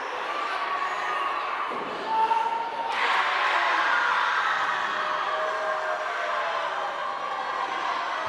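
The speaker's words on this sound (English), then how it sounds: "Boos and then cheers." A wrestling crowd produces a loud, sustained roar that shifts partway through into brighter cheering, with shouts rising from the mass of voices.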